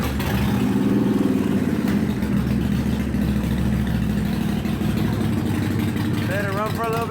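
A 2014 Harley Davidson motorcycle engine idles close by after starting, a steady low rumbling throb that holds evenly throughout, with a voice briefly speaking near the end.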